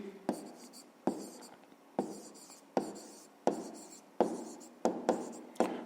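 Pen strokes on paper during a fifth-grade maths exercise, a series of about eight quiet, evenly spaced scratching bursts, each starting sharply and trailing off, close and alone.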